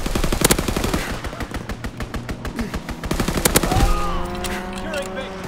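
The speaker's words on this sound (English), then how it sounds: "Strafing the target." Rapid machine-gun bursts from a fighter plane strafing a target in the World War II shooter Call of Duty: WWII, loud and close, firing in dense rhythmic volleys for several seconds before giving way to a lingering ringing tail.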